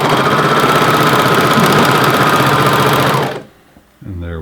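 Sewing machine stitching an elastic waistband runs steadily and loudly for about three and a half seconds with a dense mechanical whir, then stops abruptly, followed by a brief pause and a voice.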